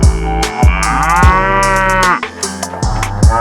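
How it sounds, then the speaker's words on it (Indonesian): A domestic cow lets out a loud, long, rich moo that swells and fades, set among other close livestock noises and thuds, with no speech. "Sapi atau lembu adalah hewan ternak anggota famili Bovidae dan subfamili Bovinae."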